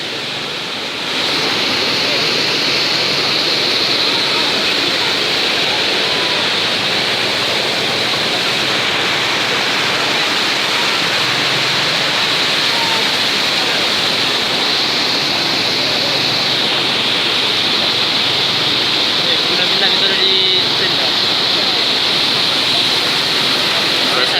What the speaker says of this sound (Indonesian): tidak dapat menembus barikade atau tidak menembus derasnya aliran sungai yang ada di sini